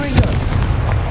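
A Confringo spell explosion in the video game Hogwarts Legacy, a loud, close booming blast with a short burst at the start, heavy and rumbling throughout.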